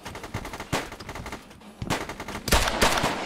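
Rifle gunfire in a video game, rapid automatic bursts firing close and loud, broken by short pauses, then a heavier volley near the end, with no talk.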